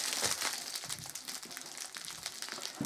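Blue sticky protective plastic film peeling off a sheet for picture framing, a soft continuous crinkling and crackling that is quiet and close, with no talk over it.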